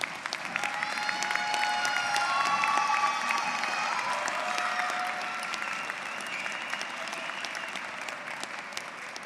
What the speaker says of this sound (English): I would like you to clap and to thank them all for the support that they've given you